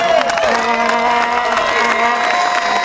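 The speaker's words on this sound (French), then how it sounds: "on les applaudit." A crowd applauds and cheers a team at an intervillage games event in 2011, with a steady wash of clapping and shouts close by and an announcer's voice carrying over it.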